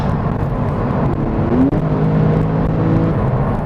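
A Porsche 911 Carrera S engine drones steadily under acceleration, its pitch climbing briefly midway, heard from inside the car with no speech.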